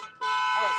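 A car horn sounds at a street protest outside a center for the blind, one long loud steady honk rising in after a brief muffled moment and holding to the end.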